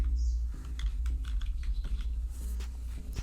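Rapid, irregular keystrokes on a computer keyboard, close and fairly crisp, clicking in quick bursts for about three seconds over a low steady hum, with no voices.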